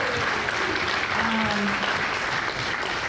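A town hall crowd at a Social Security meeting in Alabama with a governor applauds retired federal employees, a full, steady round of clapping with voices mixed in.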